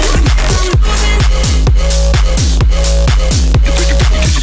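A loud, dense electronic dance remix pre-break section repeats the drop's melody over pounding kicks and pitch-gliding bass hits, steady and continuous with no voice.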